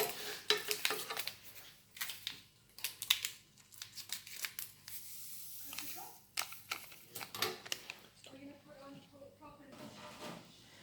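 Spices being stirred and mixed into hot cross bun dough in a bowl, irregular scraping and clattering strokes of a utensil against the bowl, close and fairly quiet, with a few soft sounds near the end.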